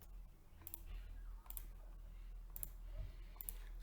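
Four sharp computer mouse clicks spaced about a second apart, faint and close, over a low steady hum with no talking.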